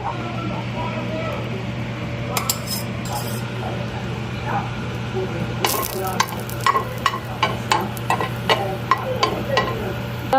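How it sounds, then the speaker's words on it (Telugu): Cooking oil poured into a paniyaram (ponganalu) pan, with steady sizzling, then a run of quick metallic clinks and scrapes; a person talks over it. "ఇప్పుడు ఆయిల్ వేసుకోండి అన్నిట్లలో"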